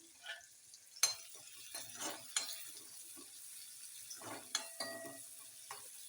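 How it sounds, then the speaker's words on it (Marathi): Chopped onion frying in a pan on a gas stove while gram greens are prepared: a faint, low sizzle broken by sharp spatula knocks and stirring clatter, with no talking. "कांदा टाकून घेते कारण का इकडे गॅस सुरू होता कांदा टाकलेला आहे"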